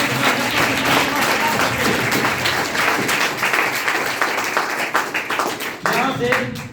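Loud, dense applause from an assembled crowd at a teacher farewell and honour ceremony, steady clapping filling the whole stretch with a slight dip near the end.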